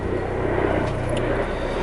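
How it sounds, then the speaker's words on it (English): A helicopter flies overhead, heard as a steady, broad rumbling drone that holds at a fairly constant level, with no talk over it. "Excuse the helicopter going over."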